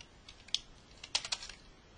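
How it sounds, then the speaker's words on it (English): Quick bursts of keystrokes on a computer keyboard while entering text into an Excel sheet, light clicky taps in two short clusters, close and quiet with no talking. "So I'm going to type in here,"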